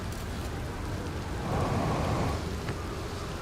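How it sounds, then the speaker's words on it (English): A storm in the game Outer Wilds gives a steady, dense roar of rain and wind, with a low rumbling swell in the middle that suggests distant thunder, and no voices. "Sounds like there's a storm about to throw this island"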